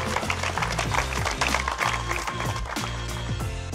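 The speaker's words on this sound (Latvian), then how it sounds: "Aplausi!" Audience applause at a boat spinning-fishing league season-closing award ceremony, steady clapping running throughout under a strong rhythmic music beat.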